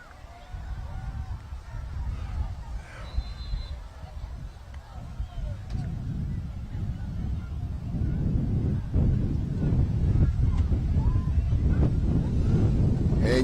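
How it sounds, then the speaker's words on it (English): Strong gusting wind of at least 30 mph buffets the microphone at a youth football game in a steady low roar that swells louder toward the end, with faint voices barely audible beneath it. "I'm talking about a gust, at least 30-mile-an-hour wind gusts."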